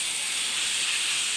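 Jute leaves drop into a hot pan with fried onion and garlic, giving a loud, steady, bright sizzling hiss up close with no voices.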